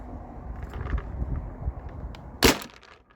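A single sharp paintball shot from a Tippmann A-5 marker fitted with a Warrior Delrin bolt, a loud crack near the end over a background of low handling noise.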